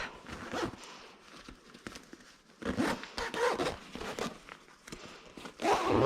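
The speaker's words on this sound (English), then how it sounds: "So here on the hood, you can zip it up." Zipper pulled along the extendable fabric hood of a Joie Finiti Flex 2-in-1 pushchair, several close raspy zipping strokes with short pauses between them and some rubbing of fabric.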